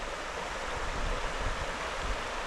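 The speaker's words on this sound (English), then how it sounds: "Well, it's not really rapids, but slightly faster moving water." Faster-moving water on the River Ugie in Aberdeenshire rushes in a continuous broadband roar, steady and fairly close, with slight rumbling swells and no voices.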